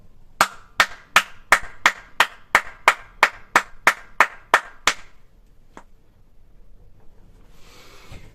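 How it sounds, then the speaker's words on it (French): Hands clap about thirteen times in a steady, evenly spaced rhythm, loud and close, then stop, leaving a single later clap and quiet room noise. "On prend nos deux mains comme ça, mais bien grand, bien ouvert. Et on applaudit."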